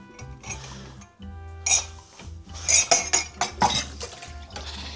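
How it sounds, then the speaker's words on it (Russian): A metal pot clanks and scrapes as it is set down into a Ninja multicooker, with several clinks and knocks close by. "И кастрюлю отправляем обратно в мультиварку."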